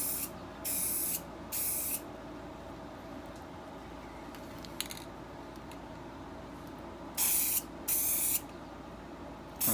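Aerosol spray paint applied to a Ford Focus in four short hissing bursts, two near the start and two near the end, separated by quiet background, no talking.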